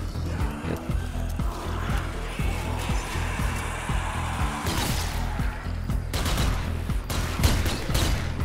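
Rapid bursts of gunfire in the video game Zombie Army 4: Dead War crack repeatedly over a busy background of engine and crash noises, with sharp shots clustering toward the end.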